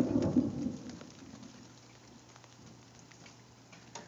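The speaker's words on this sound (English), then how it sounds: "I'm just listening to the thunder and then following where the lightning's gonna be" A low rumble of thunder rolls near the start and fades over a couple of seconds, leaving steady soft rain falling during a thunderstorm, with no talking.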